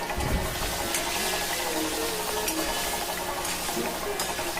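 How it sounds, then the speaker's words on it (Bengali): Eggs frying in oil with salt and turmeric give a steady, moderate sizzle with wet bubbling and occasional stirring scrapes, close by and continuous throughout. "লবণ আর হলুদ দিয়ে ডিমটা কিন্তু ভেজে নেব"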